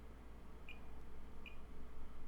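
Two short, faint electronic beeps about a second apart from an iPhone 8 Plus with a faulty camera, over a quiet low hum.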